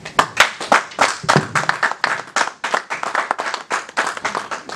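An audience at a political meeting applauds a speech with dense, continuous clapping that rises and falls in waves, close and fairly loud, holding steady for several seconds with no voices standing out.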